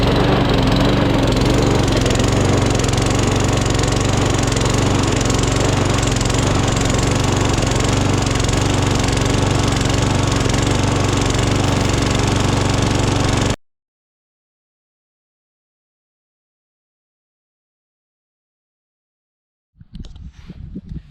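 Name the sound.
Husqvarna riding lawn mower engine running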